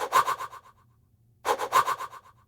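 A mouth sound treated with EQ, a frequency shifter and feedback delay, giving an old-school game-style effect: two loud bursts about 1.3 seconds apart, each trailing off in repeating delay echoes over a low hum.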